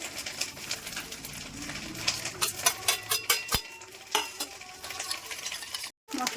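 Spices, bay leaves, cumin and ginger paste being stirred into water in a bowl, close scraping swishes and clinks in an uneven rhythm, ending with a brief pause.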